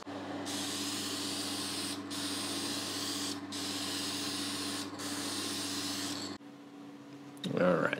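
Spray paint hisses from an aerosol can in four long bursts separated by short pauses, close and steady, laying down a light first coat before stopping into quiet with a brief clatter at the end.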